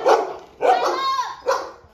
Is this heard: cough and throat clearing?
no